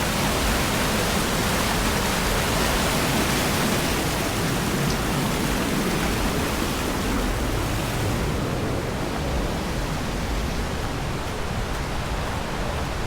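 A waterfall in Dupont Forest, North Carolina, roars as a loud, constant, close rush of falling water that fills the scene without pause.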